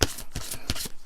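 A deck of cards gets shuffled by hand in a few quick, crisp riffling bursts, close and clear with no talking.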